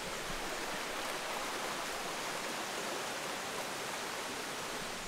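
A small waterfall at a hot spring in Bajawa, Flores, rushes in a continuous, close, broadband roar of splashing water with no pauses.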